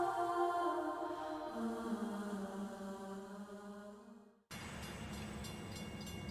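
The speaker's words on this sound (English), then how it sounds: "From outside came the sounds of hissing steam and squeaking metal." A stationary train with a steady hiss and long tonal metallic squeals that fade out, then a sudden cut to a noisier rumbling hiss.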